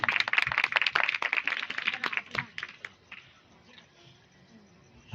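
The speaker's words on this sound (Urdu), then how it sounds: "آپ کی زوردار تالیوں میں" Applause from an audience at a church gathering, a burst of loud, dense clapping that thins and fades to scattered claps and quiet room murmur after about three seconds.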